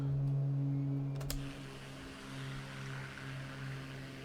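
Propeller airplane droning steadily in flight in Microsoft Flight Simulator 2024, a steady hum with strong low tones that eases slightly after a brief click, heard alone with no talk.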